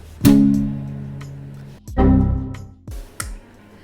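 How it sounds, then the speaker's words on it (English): Short, choppy palm-muted guitar strums with a muted, thudding attack, a few quick hits separated by brief gaps. "If you strum a guitar with palm muting, it'll sound like this."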